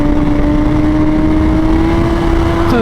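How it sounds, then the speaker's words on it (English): Motorcycle engine held at high revs for a clutch-up wheelie, a loud, steady buzzing drone close by whose pitch climbs sharply in the final moment. "Let's go ahead and rip another wheelie for you guys"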